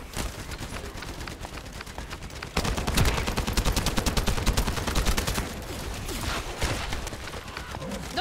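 Gunfire in a looter shooter game: a dense rattle of rapid shots that steps up sharply partway through into a loud, sustained barrage, with a brief faint voice mixed in.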